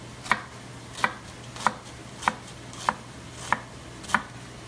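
A very sharp knife chops through half of a small onion in seven evenly spaced, crisp cuts. Each one is a distinct sharp tap on the board, close and clear over a faint steady hum, with no speech.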